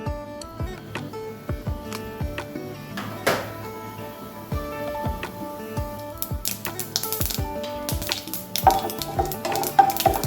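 Mustard seeds and urad dal splutter in hot coconut oil for a sweet potato masala, a dense, close run of sharp irregular pops and crackles over a faint sizzle, growing busier toward the end.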